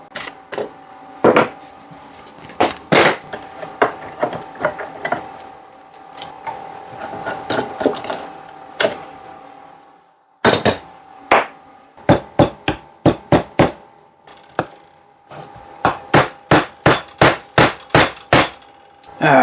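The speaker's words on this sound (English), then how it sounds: "we'll start putting in some finishing nails just to make sure that it's, you know, held together really well" Finishing nails are hammered into a wooden counterweight box for a trebuchet, sharp close knocks in quick bursts with brief pauses between, ending in a fast run of steady blows.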